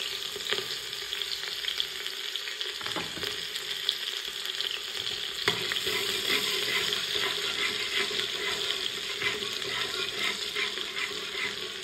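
Onions sizzle and fry steadily in a hot pan for egg biryani, a dense continuous crackle with occasional stirring scrapes and brief watery clatter, close and alone with no talk.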